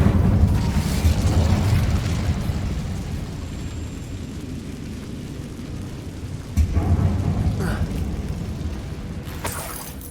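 A loud burst of the Incendio fire spell in Hogwarts Legacy on PS5, a deep whooshing roar that fades over several seconds, then a second swell of rumbling fire, with no talk.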